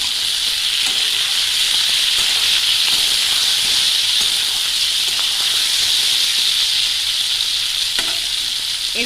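Boiled papaya and potato pieces fry in a pan for a coconut papaya dish, giving a loud, steady, hissing sizzle that runs unbroken and close, with faint stirring clicks and no voices.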